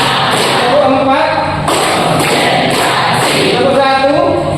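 A classroom of students claps in a quick pattern of sharp, loud, evenly spaced beats, with the group chanting and calling out between the claps.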